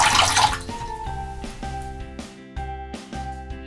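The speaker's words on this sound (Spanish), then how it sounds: "Vamos a echarle agua." Water poured from a small pot or bowl for heating while making homemade milk, a close, steady splashing pour with a few gurgling bursts over a few seconds, no voices.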